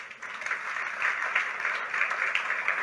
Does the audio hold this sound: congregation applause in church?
yes